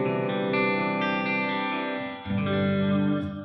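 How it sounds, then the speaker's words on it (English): An electric guitar plays sustained, shimmering chords through a Headrush effects unit with reverb and modulation. The tones ring out continuously, with a brief dip before the chords swell back in. "Let's turn off the reverb for a second."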